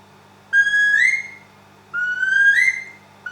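A handmade wooden bird whistle imitating a plover, a small wader, gives two clear rising whistled calls with a short gap between them and a third just starting at the end, close and loud over a steady low hum.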